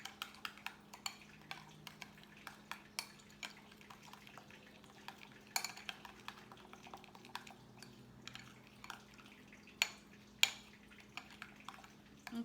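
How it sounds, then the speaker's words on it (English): Almond flour bread batter stirred in a bowl gives faint, scattered spoon taps and soft scrapes in a quiet room, with a low steady hum behind. "So I want to stir this."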